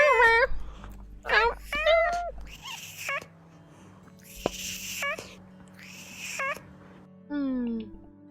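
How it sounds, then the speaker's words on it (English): A cat lets out a series of short, rising and falling meows and whiny cries, several separate calls spread across the stretch with quiet gaps between them. "Cat noises."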